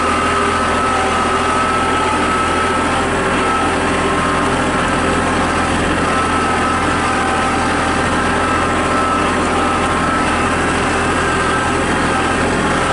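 A Kubota tractor fitted with a backhoe runs its engine loudly and steadily at close range, a constant droning rumble with no talking over it.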